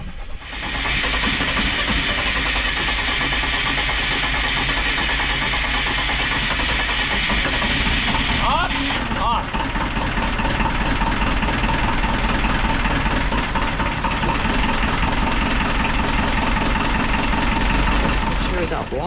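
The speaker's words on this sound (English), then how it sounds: "that is the sound of our Perkins 4108 working again" A Perkins 4108 marine diesel engine on a sailboat running steadily at idle, a continuous loud rumble with hiss throughout, briefly interrupted by a knock midway.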